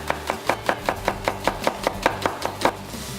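A kitchen knife slices onions finely on a chopping board, about a dozen quick, evenly spaced strokes. Close and crisp, with no talking.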